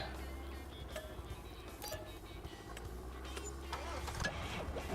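A truck engine in Farming Simulator 25 idles as a low, steady rumble with faint mechanical clicks, heard quietly under people talking.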